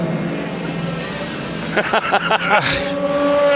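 A BMW DTM race car at the 2012 Valencia round roars by toward the checkered flag, its engine note climbing through quick gear changes. An excited commentator talks over it.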